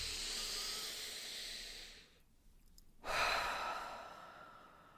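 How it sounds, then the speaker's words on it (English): A long, deep, close breath: a steady breathy inhale, a short silent pause, then a strong rushing exhale, heard alone. "Take a deep breath with me."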